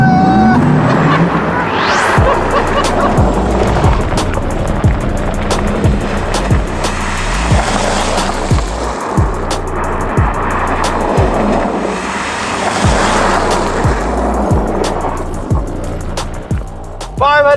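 A Porsche Taycan Cross Turismo electric car of about 550 horsepower accelerating hard and sliding on gravel, with loud continuous crunching and rumbling from the tyres and rhythmic thumps of stones, plus a faint rising electric whine.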